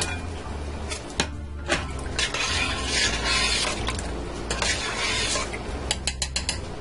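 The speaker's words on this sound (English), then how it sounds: "I'm going to add in my beef again" Pieces of beef for beef bourguignon being added to a pressure cooker pot, with metallic scrapes, knocks and stirring clatter over a steady background hum, close by.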